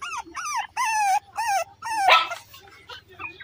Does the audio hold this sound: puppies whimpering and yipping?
yes